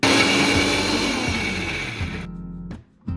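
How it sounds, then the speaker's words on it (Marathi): Kitchen mixer grinder blending chilli, garlic, salt, asafoetida and turmeric into a medium-coarse masala, a loud close whirring drone with pulsing rhythm that cuts off near the end, followed by a short restart burst. "हिंग, हळद पण त्याच्यात टाकून सारं मिक्स करून मी मिक्सरवर काढून घेते."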